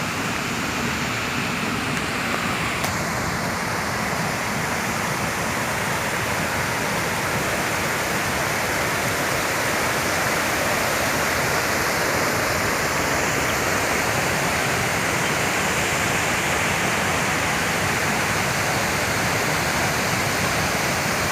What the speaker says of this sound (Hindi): पानी का ये बहाव फव्वारे की शक्ल में कितना ही खूबसूरत दिखाई दे रहा है।